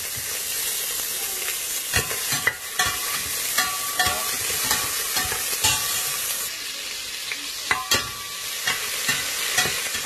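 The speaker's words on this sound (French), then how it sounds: "je vais mettre aussi une cuillère d'ail" Garlic, onion and dried fish sizzle steadily in a hot pan, with repeated clinks and scrapes of a utensil stirring close by and no voices.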